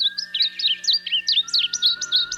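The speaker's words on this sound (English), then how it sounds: "The varied bunting, Passerina versicolor." A varied bunting (Passerina versicolor) sings a rapid, close series of bright warbled chirps and slurred notes in a continuous clear phrase over a quiet background.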